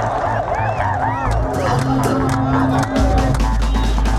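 Crowd rushing and clamoring at the 2013 Taunggyi balloon festival in Myanmar: loud, dense babble of many voices and shouts close by, with whistles and a dog barking amid the commotion.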